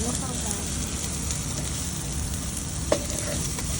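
Oil hisses steadily in a pan as ingredients are fried slowly for a noodle dish, a close, even sizzle throughout with one small clack near the end.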